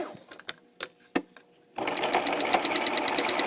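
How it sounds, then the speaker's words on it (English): A sewing machine stitching hair wefts starts after a few soft handling clicks and settles into a fast, even whir, close and steady. "start sewing"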